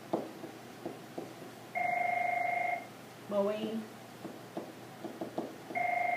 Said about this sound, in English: that is the phone ringing on the recording